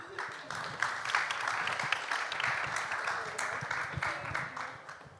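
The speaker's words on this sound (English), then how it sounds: "Let's give a round of applause." Audience applause at a panel session of a Eurasian IT forum in Moldova, steady dense clapping filling the room for several seconds with a faint voice or two underneath.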